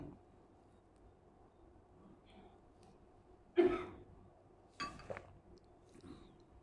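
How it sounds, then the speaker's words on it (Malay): During an evening religious lecture in a mosque, a man gives two sharp coughs a second apart, close to the microphone, with faint clinks and quiet room noise around them. "Batuk pula."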